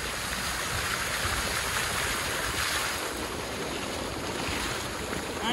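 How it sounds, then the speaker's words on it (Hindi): Water from a farm tap pipe gushes steadily into a field in rural India, giving a constant loud, close splashing rush with no pauses and no voices. "इधर से पानी बहुत मस्त गिर रहा है"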